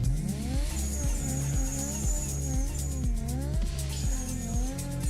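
A drift car in Torque Drift 2 swings through slides, its turbo engine revving in repeated surges while a wastegate flutters and chirps high above, tires squealing throughout.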